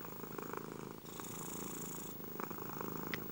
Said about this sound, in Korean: 나는 떠나기 전 나의 첫 인간별 친구를 위해 라스트 골골송을 연주하였다